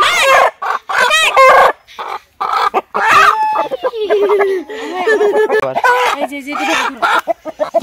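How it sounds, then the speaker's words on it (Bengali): Domestic native hens at a family home during a Christmas picnic, clucking and squawking loudly and close by in agitated bursts while people talk over them. "বাড়ির দেশি মুরগি"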